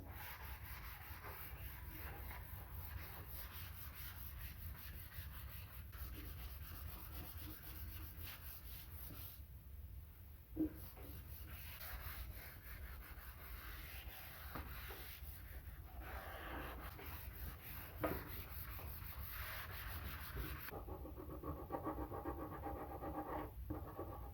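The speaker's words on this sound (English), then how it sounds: "I'm going to sand the top of this with some 320 grit sandpaper" Steady hand sanding of a wooden shelf top with 320 grit sandpaper, a continuous close rubbing hiss with a few brief pauses and light knocks, no talking.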